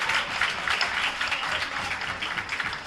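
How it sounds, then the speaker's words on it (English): A steady patter of applause from a seated audience at a medical quiz event, dense and even throughout, fairly soft and with no talking over it. "So a big round of applause."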